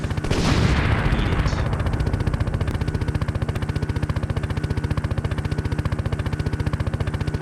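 Helicopter gunship weapons firing at a toad gun emplacement in the Gunship video game: a sharp blast at the start, then a rapid, steady stream of loud automatic gunfire bursts that run through to the end.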